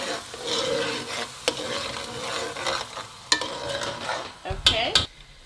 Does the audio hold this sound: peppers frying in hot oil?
yes